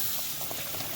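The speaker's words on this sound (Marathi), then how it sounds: "पाणी आपलं आता उकळलं आहे" Water comes to a rolling boil in a pot for chicken biryani, giving a steady close bubbling hiss over about a second with no voices.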